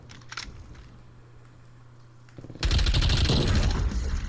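Rapid automatic LC10 gunfire in Call of Duty: Cold War free-for-all, a loud sustained burst of shots after a quieter lead-in with a few faint earlier pops.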